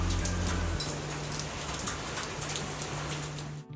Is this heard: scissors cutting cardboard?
no